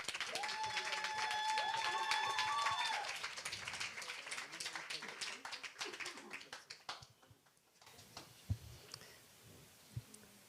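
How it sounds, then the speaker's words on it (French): Applause from a seated audience after a speaker is introduced at a talk, a steady patter of clapping that fades out over several seconds before a voice begins speaking. "Béatrice, on l'applaudit."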